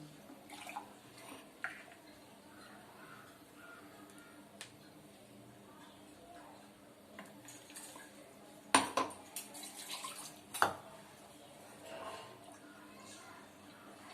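A mixer jar is rinsed with water at a kitchen sink, giving soft splashing and running water with scattered clanks of the metal jar, loudest in a cluster near the end, while a voice talks faintly.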